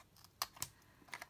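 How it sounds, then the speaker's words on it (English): Scissors snip off excess bits of laminated cardboard while shaping a square cracker gift box, giving two or three quiet, sharp clicks close by with soft handling noise between them. "So we don't need these bits, so you can just snip these"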